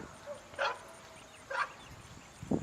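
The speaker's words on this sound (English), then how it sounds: "Neighbor's dog. Every time." A neighbor's dog barks from some distance across a garden plot, three short sharp barks spaced roughly a second apart, the last one lower and muffled, over quiet outdoor ambience.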